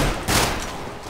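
A quick burst of rapid gunfire rings out in a Counter-Strike style shooter match, one loud volley followed by a decaying tail.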